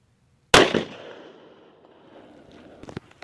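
A small-caliber gunshot fired into an old 20-year-old Kevlar vest gives one loud, close crack that rings and decays over a couple of seconds, followed by faint clatter and shuffling.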